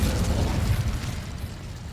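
The Incendio fire spell from Hogwarts Legacy goes off as a loud, low roaring burst that hits at once and then slowly fades over about two seconds, with no voice on top.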